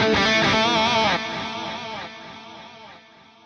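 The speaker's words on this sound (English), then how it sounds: "let's choose this one right here called PCM70 Circular." An electric guitar runs through the PCM70 Circular multi-tap delay on an FM3 unit, ringing a short phrase whose repeats step down and fade over a few seconds, heard alone.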